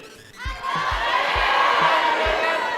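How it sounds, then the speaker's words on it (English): A convention panel audience cheers and whoops loudly in a sustained crowd roar, with a few low thumps underneath. "I can hear your cheers"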